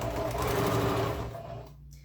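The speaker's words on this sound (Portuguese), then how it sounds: "E eu vou costurar aqui um pezinho de máquina." A sewing machine runs a steady, fast stitching burst along a shoulder bag seam, close and continuous before winding down and stopping, with no talk.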